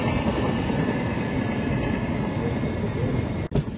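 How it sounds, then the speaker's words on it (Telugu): The Shalimar Chennai Express rushes past close by near Sullurpeta, a loud steady roar of rolling wheels and wagons with a brief sharp dip near the end. "పక్కనే చూసారా షాలిమార్ చెన్నై ఎక్స్ప్రెస్ ట్రైన్ అయితే వెళ్ళిపోతుంది"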